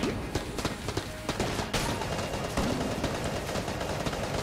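Gunfire in the roguelike shooter Enter The Gungeon, with dense rapid shots packed into a continuous barrage that stays steady and loud throughout, with no gaps between bursts.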